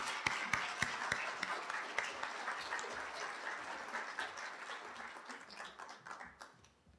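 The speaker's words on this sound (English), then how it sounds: "And if we can give a round of applause," Applause for graduating nursing students at a hooding and pinning ceremony, fairly faint and distant, with a few sharp individual claps standing out early before the clapping thins into sparse, uneven patter.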